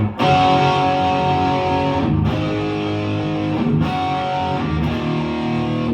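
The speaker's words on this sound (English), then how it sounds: "this is just like a regular rock tone, nothing fancy, just a little, you know, distortion and some reverb" Sustained distorted chords from an Epiphone Korina Explorer electric guitar ring out with reverb, struck three or four times, each chord held and blending into the next.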